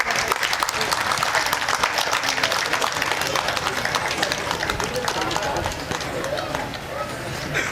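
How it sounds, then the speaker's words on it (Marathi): Audience applause at a Marathi literary event welcoming the inaugural guest, a dense, loud and continuous clapping that fades slightly toward the end. "टाळ्यांचा गजर होत राहिला पाहिजे"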